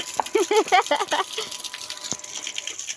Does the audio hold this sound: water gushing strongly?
yes